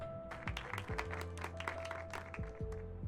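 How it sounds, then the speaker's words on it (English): Sparse, scattered clapping from a small audience in a comedy club scene of the game LoverWatch, a few faint claps over background music and tones. "The previous comedian steps down from the stage with some paltry claps"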